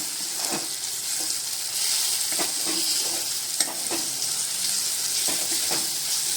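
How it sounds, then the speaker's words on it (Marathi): Spices, red chili powder and salt being stirred into a hot pan for spicy egg bhurji, a steady sizzle and frying hiss with repeated scraping strokes of the spoon, close and continuous, no talk. "आवडीनुसार लाल तिखट चवीनुसार मीठ हे सर्व आपण आता मिक्स करून घेऊया"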